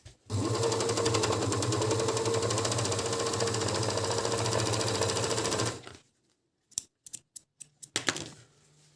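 An Agat DonLock 54D6 six-thread overlock sewing a seam in denim runs with a loud, steady, rapid mechanical whir for about six seconds, then stops, followed by several short clicks and knocks.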